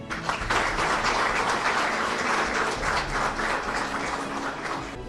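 An audience claps steadily during an award presentation at an Istanbul literature festival, a continuous even wash of applause at moderate distance with no talk.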